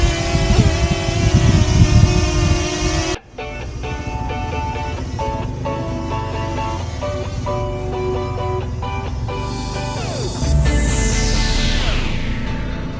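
Honda Navi motorcycle engine running steadily while riding, a continuous loud drone with a shift in tone partway through and a rising whine as it speeds up near the end.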